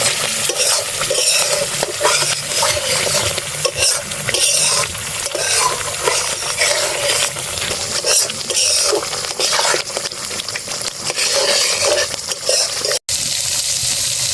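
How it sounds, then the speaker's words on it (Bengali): Ground spices with salt, coriander and cumin stir-fried in a pan for egg curry, a loud continuous sizzle with constant scraping and stirring throughout. "এবারে ভালোভাবে কষিয়ে নেব।"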